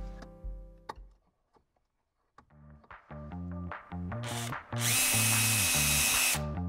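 A power drill drives self-tapping screws into a trailer brake controller bracket on a Jeep JK Wrangler, first in short stuttering bursts and then in a long, loud, steady whirring run, close up.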